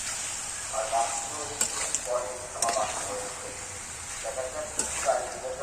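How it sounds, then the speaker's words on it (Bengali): Kashmiri chili powder sautés in oil in a pan with a steady close sizzle and a few sharp scrapes of a spoon against the metal, while a person speaks softly over the cooking. "এক চামচ মতো দিয়ে এটা আমি এবার কষাবো"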